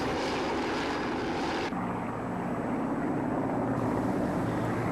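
A firefighting air tanker aircraft flies overhead, its engine and propeller drone loud, steady and continuous throughout, with no other sounds.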